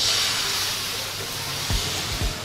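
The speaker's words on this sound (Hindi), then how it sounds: "अभी हम इसमें डालेंगे हमारा बैटर" Neer dosa batter poured onto a hot pan, a broad steamy hiss that swells and holds steady, close by, ending in a couple of soft low thumps.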